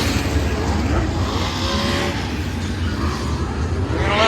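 Sprint cars practice on the dirt track at Charlotte Motor Speedway, a dense, continuous roar of engines with cars sweeping past at a distance, loud throughout.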